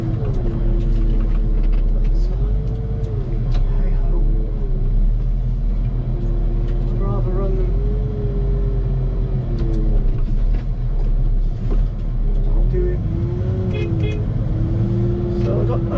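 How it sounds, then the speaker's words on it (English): Volvo dump trucks idle and run on a work site, a steady low diesel rumble throughout with engine pitch wavering up and down, while someone talks over it. "Only got 2 dump trucks running today."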